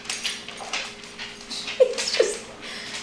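A restless dog whimpers and yips softly indoors in a home kitchen, a few thin whines rising and falling over a couple of seconds against light household background noise.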